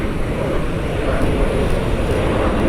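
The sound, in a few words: Southwest airliner arriving at Columbus airport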